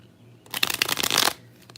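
A deck of vintage-style playing cards is shuffled up close, a dense rapid ruffle of card edges lasting about a second, then a few softer card taps.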